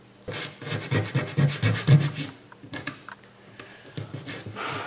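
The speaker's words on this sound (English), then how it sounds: "I use stick sanders and sandpaper to sand over everything after routering" Rhythmic scraping and rubbing strokes of sandpaper and stick sanders worked back and forth over routered silver maple wood, close and fairly loud, slowing and softening toward the end.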